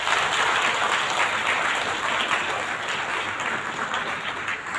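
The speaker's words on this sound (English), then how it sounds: "So a big round of applause for him." An audience at a school silver jubilee celebration gives a steady round of applause, dense and even clapping that fills the hall and fades slightly toward the end.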